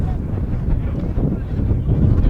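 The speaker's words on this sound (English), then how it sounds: "A beautiful day, just very windy." Strong wind buffets the microphone in a steady, low roaring rush with gusty swells.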